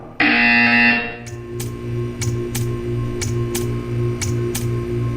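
A loud electronic buzzer in Portal 2 sounds for about a second, then a steady rhythmic hum continues with a series of sharp periodic ticks or clicks.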